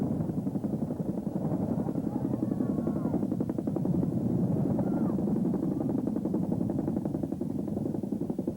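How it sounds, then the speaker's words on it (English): An Army helicopter hovers over a flood rescue in central Pennsylvania, its rotor blades thudding in a fast, steady chop throughout, loud and close, with no voices. "An Army chopper lifts him to safety"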